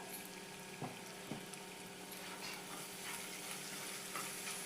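Pabda fish jhal cooks in a pan with a steady, close sizzle and a few soft stirring knocks; no one speaks.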